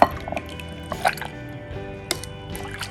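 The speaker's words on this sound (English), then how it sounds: "I'm just gonna gently pour the brine over the cheese" Brine is poured gently over homemade feta cheese in a jar, giving soft drips, trickles and a few light clinks, close and fairly quiet.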